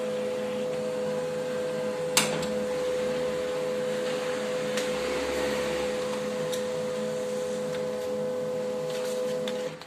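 HP LaserJet M1005 printer making a photocopy, a steady mechanical whir with a constant hum and faint clicks, close and continuous, no talking.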